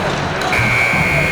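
End-of-quarter buzzer in the NBA 2K25 basketball video game, a loud sustained electronic tone over crowd noise and arena ambience in a Pistons versus Kings game, sounding near the end of the third quarter.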